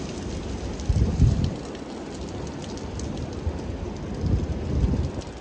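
Rain falling on a Manhattan street in New York City, a steady dense hiss of drops with a few louder splashes and low rumbles of passing traffic, no voices.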